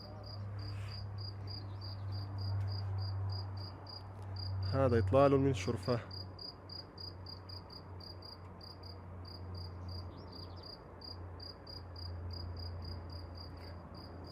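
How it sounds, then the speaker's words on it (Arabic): Crickets chirp steadily outdoors from a balcony overlooking the hills near Sarajevo, a quiet rural summer setting, with a continuous faint trill running throughout and a brief spoken remark partway through. "تخيلوا تستيقظوا هنا بصوت صرصور"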